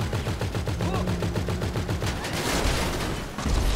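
Rapid sustained bursts of minigun fire in Grand Theft Auto V, a dense rattling stream of shots that is loud and continuous, followed by heavier blasts near the end.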